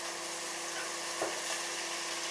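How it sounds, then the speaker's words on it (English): Meat frying in a pan for a pasta bake, a continuous close sizzle with a low steady hum beneath and a soft stir or clatter midway, no one talking. "Now we add all the meat."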